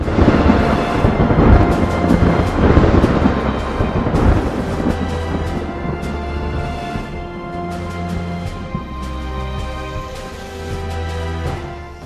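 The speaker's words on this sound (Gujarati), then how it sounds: "ભાવનગર શહેર અને જિલ્લાના પંથકમાં ક્યાંક ધોધમાર તો ક્યાંક ધીમીધારે વરસાદ વરસ્યો।" A thunderstorm with heavy rain over Saurashtra, Gujarat: loud, dense rain roars throughout while deep rolling thunder rumbles in, strongest early on, and no one speaks.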